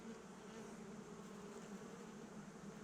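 A newly hatching honeybee buzzes in a hive: a steady, faint low drone with a continuous hum that stays level throughout, with no voices.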